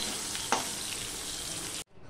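A piece of hilsa fish sizzles in hot oil in a kadai, a dense, steady hiss with one brief sharp crackle near the start. It cuts off abruptly near the end, with no voices.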